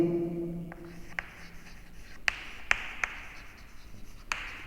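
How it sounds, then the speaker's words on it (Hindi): A chemistry teacher writes on a classroom board during a solid-state lesson, chalk or marker strokes landing as a series of sharp, close taps and scrapes at uneven intervals with no talking. "तो हम यहाँ लिख सकते हैं"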